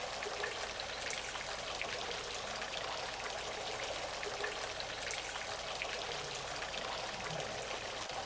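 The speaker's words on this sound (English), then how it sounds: "The sound of a fountain." A water fountain splashes in a steady, even rush of falling water and droplets, close and moderately loud with no break.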